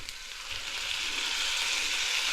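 Tomatoes hitting a hot frying pan for a risotto, a steady broad sizzle that swells and holds loud and close throughout, with no talking.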